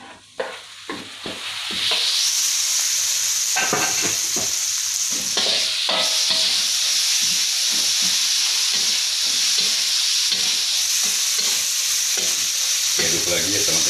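Chicken feet and necks fry loudly in a hot pan without a nonstick coating, a steady close sizzle broken by repeated scraping stirs, with no talking over it.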